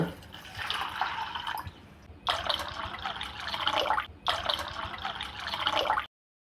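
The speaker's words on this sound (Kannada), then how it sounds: "ಈಗ ಒಂದು ಮೂರು ಗ್ಲಾಸ್ ನೀರು ಹಾಕ್ಕೊಳ್ಳೋಣ" Water is poured into a pot of fresh field beans in three separate glassfuls, each a bright gurgling splash with short pauses in between, close by.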